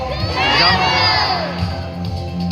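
A crowd of children and adults at a Cebu safari park shouts the name of Jumbo, a bird, in a loud, sustained, overlapping cheer. The roar builds and then fades slowly over a couple of seconds.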